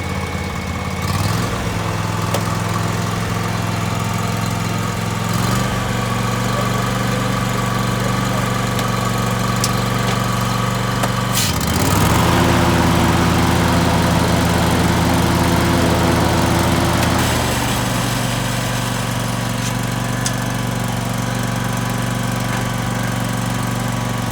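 A riding lawn mower engine with a hydraulic blade runs loudly and steadily, its pitch rising and thickening midway as the throttle changes, then settling back.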